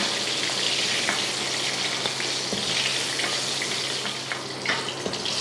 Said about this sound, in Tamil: பாருங்கள் கத்திரிக்காய் நல்லா வதங்கிடுச்சு.